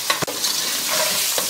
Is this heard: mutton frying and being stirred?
yes